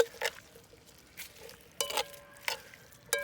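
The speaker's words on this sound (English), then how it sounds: "I'm gonna let this saute for about 5 minutes." Beef stroganoff sautéing in a Dutch oven over coals outdoors, a soft low sizzle broken by several sharp stirring scrapes and clinks spaced about half a second apart, close and alone.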